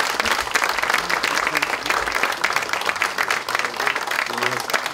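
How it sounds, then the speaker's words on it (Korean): Lawmakers at a party caucus meeting clap in encouragement, a dense, even burst of applause filling the room, with a voice faintly underneath. "의원 여러분들이 격려의 박수를 보내주시기 바랍니다"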